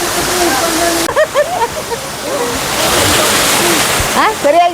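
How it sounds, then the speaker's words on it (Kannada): Waterfall at the Garden of Caves near Cherrapunji: a loud, steady roar of falling water heard close throughout, with voices talking and calling over it. "ಇದೊಂದು ಫಾಲ್ಸ್ ನೋಡಿ."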